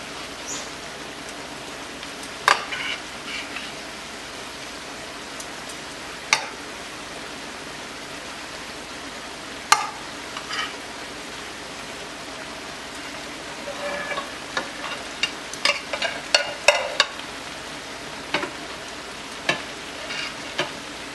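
Meat going into a hot pan for Cuban ropa vieja, giving a low steady sizzle broken by scattered crackles and pops, with a cluster of sharper spatters near the end; no voices.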